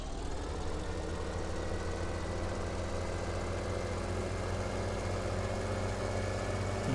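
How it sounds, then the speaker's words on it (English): A tractor engine idles in Farming Simulator 17, a steady low diesel rumble with an even throb, close and unbroken throughout. "I need to take this tractor over here"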